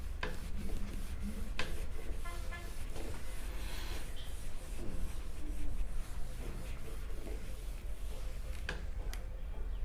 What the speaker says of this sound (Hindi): मैं इसको रब कर देता हूं यहाँ पर